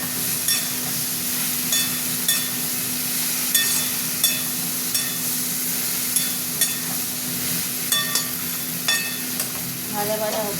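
Okra curry frying in a pan, seasoned with a little sugar and salt, gives a steady close sizzle with light stirring scrapes and small crackles throughout, and no talking.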